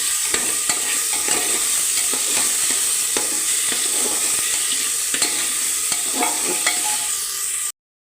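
Masala rice with pavta beans and moong dal is stirred in a hot pan, with repeated scraping strokes over a steady, close frying sizzle. No talking.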